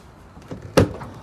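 Door of a Ford Expedition Platinum opening as the retractable running board deploys, giving a soft mechanical rustle followed by a single firmer clunk up close, with no talking.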